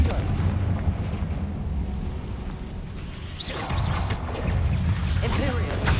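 A Confringo blasting curse goes off in Hogwarts Legacy: dense booming rumble throughout, with a sharp burst of blast noise around the middle followed by crackling debris, loud and close.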